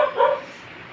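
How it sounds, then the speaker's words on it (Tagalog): A dog outside gives a short bark, clear and fairly close, then quickly fades into a quieter background. "Maingay yung aking aso sa labas."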